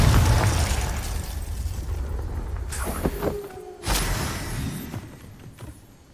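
A Confringo blasting spell explodes in the PS5 game Hogwarts Legacy, a loud booming burst with rumbling debris, followed by a fresh blast and fading rumble.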